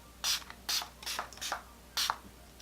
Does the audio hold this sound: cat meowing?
no